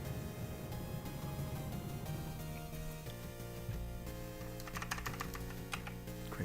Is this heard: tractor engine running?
no